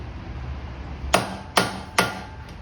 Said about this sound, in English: we're going to try to drive that bearing in as straight as possible